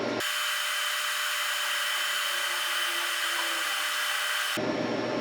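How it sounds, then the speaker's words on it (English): A plasma cutter slicing through the inner fender liner of a Firebird, a loud continuous hissing roar that starts abruptly, holds steady for about four seconds and cuts off, heard up close with no talk. "I got the plasma cutter out"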